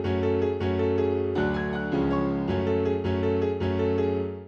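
A piano VST in FL Studio plays a MIDI pattern with every note at the same velocity: steady, evenly loud repeated chords in a mechanical rhythm, dense and sustained, with no voices.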